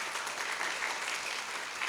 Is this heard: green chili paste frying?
no